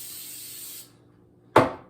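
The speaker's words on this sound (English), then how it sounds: "Just going to spray this down a little bit with some," An aerosol cooking spray greases a pan for baking Amish white bread: a steady, close hiss lasting just under a second, then quiet, then a short sharp burst of sound.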